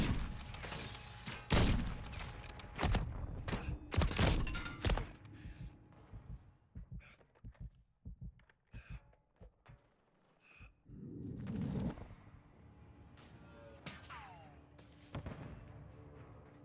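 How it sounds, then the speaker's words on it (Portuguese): Heavy gunfire from Call of Duty: Modern Warfare 3, loud sharp bursts and single shots clustered early, then scattered quieter reports and a rumbling stretch, with faint talk in the background. "Tô levando tiro."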